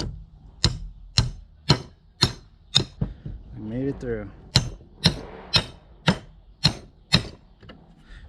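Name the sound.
hammering threaded rod through wood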